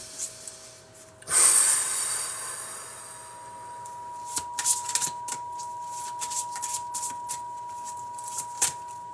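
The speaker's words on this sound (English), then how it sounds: "I'm going to pull an angel oracle card" Angel oracle cards being shuffled by hand: a sudden burst of riffling and sliding card noise up close, followed by quieter intermittent flicks and taps as the deck is handled, with no talking.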